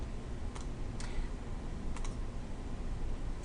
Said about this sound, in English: I'm going to pause while I type in the text